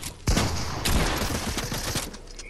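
Rapid Desert Eagle gunshots in Fortnite, a quick burst of several loud, close cracks fired in succession, with game noise underneath and no one talking.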